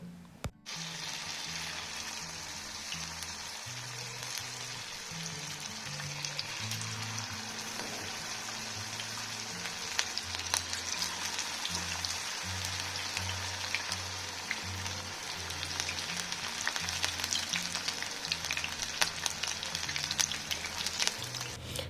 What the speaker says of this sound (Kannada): ಇವಾಗ ನಾವೇನು ಕಲಸಿಟ್ಟಿದ್ವಿ ಅದನ್ನು ಒಂದೊಂದೇ ಇಲ್ಲಿಗೆ ಎಣ್ಣೆಯಲ್ಲಿ ಹಾಕಿ ಫ್ರೈ ಮಾಡ್ಕೋಬೇಕು.